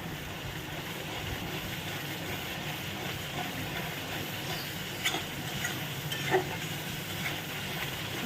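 Spices with Kashmiri chili fry in a pan, giving a faint, steady sizzle with a couple of soft clicks from stirring near the end.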